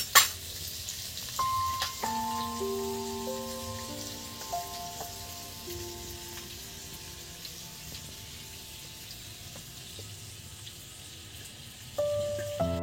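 Potatoes frying in oil for a cauliflower curry, a steady soft sizzle and crackle running throughout with faint clinks of a utensil against the pan partway through.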